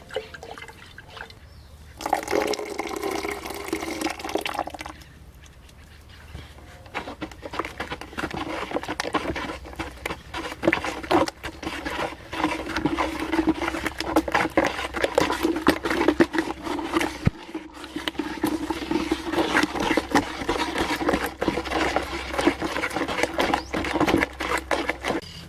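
A stick stirs limewash paint tinted with yellow ferrite in water, giving steady liquid sloshing and swirling with small patters and drips, continuous and fairly close, with a brief quieter pause early on.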